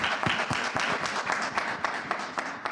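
Steady applause from a studio audience at an Urdu television singing competition, dense clapping sustained throughout with a few sharper claps standing out.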